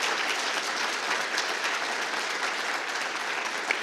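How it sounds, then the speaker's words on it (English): Conference audience gives the on-stage speakers, among them a former finance minister, a big round of applause: dense, uniform clapping from a large crowd, sustained at steady loudness throughout. "I would like you to ask for a big applause for the speakers on the stage"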